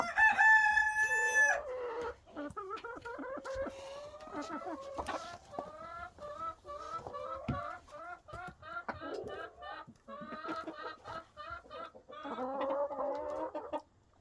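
Roosters crow repeatedly at night, loud and close, with hens clucking between the calls in a farmyard, while a voice talks faintly now and then.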